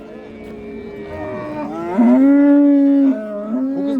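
Cattle low at a livestock market in Chiroqchi district, Qashqadaryo, a few rising and falling moos close by, one long loud call in the middle, over a busy murmur of the crowd.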